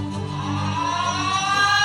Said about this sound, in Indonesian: itu sirine tanda bahaya